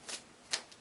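A tarot card deck is shuffled by hand in a quiet room, giving a few soft, brief papery riffles and flicks, close and faint, with no voices.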